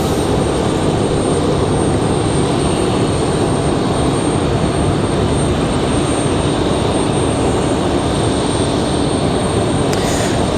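An airliner taxiing at Raleigh-Durham International Airport, heard as a steady, loud, continuous jet engine roar with broad rushing noise that holds evenly throughout, no voices.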